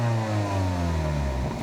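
A BMW G20 330i with an M Performance exhaust revs up, a loud, close engine note whose pitch sweeps downward as the revs fall, with no talk.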